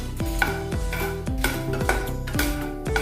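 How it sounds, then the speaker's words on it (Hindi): Dried red chillies, 10 to 12 of them, stirred in a dry pan with no oil: a spatula scrapes and clinks against the metal in repeated strokes, over steady background music. "मैंने 10-12 सूखी वाली लाल मिर्च ली है, वो इसमें डालेंगे और भूनेंगे।"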